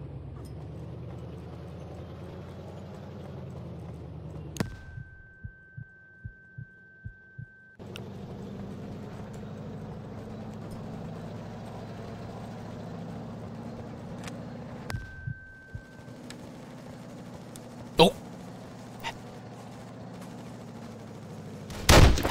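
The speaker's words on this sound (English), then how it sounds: "I don't understand how he survived those grenades" World War II online shooter combat with a low rumbling drone throughout, broken by two sudden loud blasts from frag grenades that leave high ringing tones and muffled thumps, followed later by a few sharp gunshot cracks.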